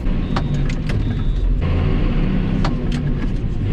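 A John Deere 6620 tractor's diesel engine revs and shifts speed automatically, a loud, close, continuous drone whose pitch changes partway through, with occasional mechanical clicks.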